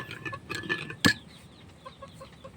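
A chicken near a countryside hut clucks in a short burst of soft, close calls, with one sharper knock or click and faint background noise.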